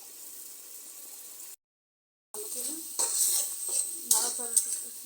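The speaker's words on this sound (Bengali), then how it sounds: "এখন আমি এখানে এক বাটি গোস্ত নিয়েছি গোস্তগুলো দিয়ে দেব" Meat going into a pot of spiced masala for haleem, with soft frying hiss, a brief silent gap, then louder sizzling and stirring with utensil scrapes against the pan.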